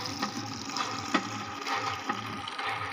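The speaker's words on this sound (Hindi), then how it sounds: "पानी भर गया।" Water runs steadily into a bucket for a bath, a continuous gushing, splashing fill close by with a few louder splashes.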